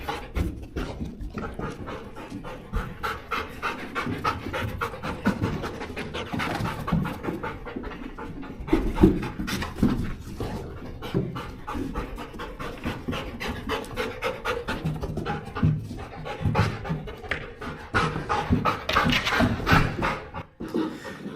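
A detection dog pants hard and rapidly, close up, during scenario-based search training for elevated hides indoors, the quick breathy rhythm continuing without pause with occasional shuffling movement.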